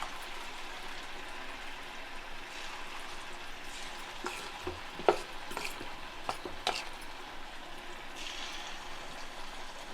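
Potato manchurian balls deep frying in a pan full of oil give a steady, soft sizzling hiss with occasional faint taps and bubbling pops, fairly quiet and continuous with no talking.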